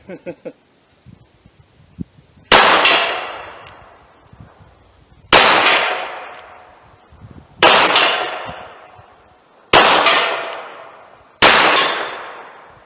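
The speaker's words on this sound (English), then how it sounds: "So I'll aim right in the bottom of the tank, see if I can hit it. That hit with some authority." Five loud, sharp .38 Special gunshots ring out at steady intervals, each bullet striking a metal tank with a ringing clang that decays slowly, after a few faint clicks and handling noises at the start.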